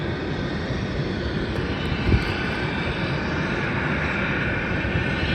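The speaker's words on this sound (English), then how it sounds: "another flight to Brisbane, Boeing 737 Virgin Australia will be taking off soon." A Virgin Australia Boeing 737 jet roars steadily on takeoff, its broad engine noise holding loud and continuous throughout with a brief thump partway through.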